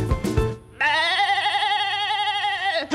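A man imitates a goat's bleat, a loud, sustained, quavering nasal bleat lasting about two seconds, preceded by brief noise.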